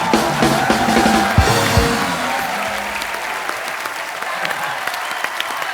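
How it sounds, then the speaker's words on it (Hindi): A studio audience on The Kapil Sharma Show bursts into loud, dense applause for the Force 2 team, starting full with a few low thumps and slowly tapering while remaining steady to the end. "एक बार फोर्स 2 की सारी टीम के लिए जोरदार तालियां"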